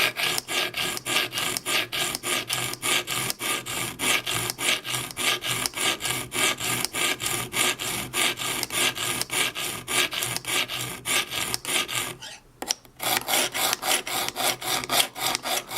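A kitchen knife is drawn repeatedly across the stone of a clamp-style sharpening system, giving steady rhythmic rasping strokes, close and loud, with a short pause near the end before the strokes resume.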